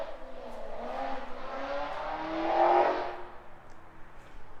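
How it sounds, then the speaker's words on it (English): A Porsche 981 S sports car engine hums and swells into a rev, peaking briefly before settling back to a steady drone, with no talking. "obviously because the car just sounds amazing"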